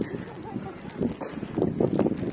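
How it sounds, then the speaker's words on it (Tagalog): Steady gusty wind in Tagaytay buffets the microphone with a low rumble while people talk underneath, near pine trees. "malakas ang hangin"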